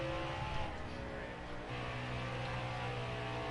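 Race car engine from a stock car racing video game, droning steadily and loud as the car spins out, with a continuous tonal hum that dips briefly partway through.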